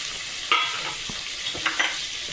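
Chopped tomato drops into hot oil in a pan for a bitter gourd and tengra fish curry, giving a soft steady sizzle broken by a few sharp stirring scrapes and clinks close by.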